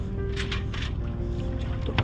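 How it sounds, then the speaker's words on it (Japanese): Low droning engine of another boat heard from aboard a sailboat on the Ariake Sea under cloudy, drizzly skies, a steady rumble mixed with wind and water noise. "船の音がするんで、"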